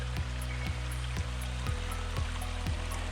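A tiny waterfall on a clear stream along a descending rocky trail, a steady hiss of flowing water close by with regular footsteps thudding over it about twice a second.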